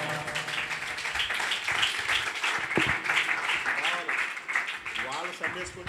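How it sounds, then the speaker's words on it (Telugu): An audience claps in applause at a church New Year gift-giving gathering, a sustained crowd clapping heard at moderate distance beneath a speaking voice. "మీరు అందరూ చప్పట్లు కొడితే"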